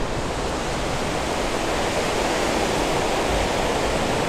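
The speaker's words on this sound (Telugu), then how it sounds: "వాటర్ అవుట్ ఫ్లో ఇది" Open gates of Pinnapuram Dam near Panyam, Nandyal, Andhra Pradesh, all six released at once, send outflow water rushing in a steady, loud, broadband roar that holds unbroken throughout with no voices.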